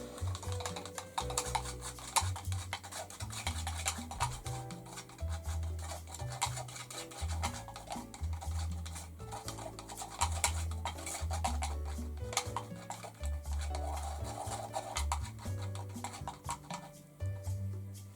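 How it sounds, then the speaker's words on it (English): Small stirring tool working through oil paint, giving a steady run of faint scraping and clinking strokes in an irregular rhythm, close and quiet. "So I'll just use this little one which I normally just use for stirring small stuff"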